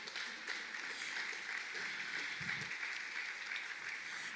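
A church congregation applauds in a faint, steady wash of clapping that stays even and distant throughout.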